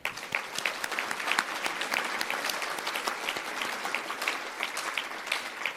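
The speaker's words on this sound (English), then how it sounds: "so please let's clap for that" Audience applause at a charity gala celebrating an organization's 18-year milestone, steady dense clapping from a large crowd lasting several seconds at moderate level, with no talking over it.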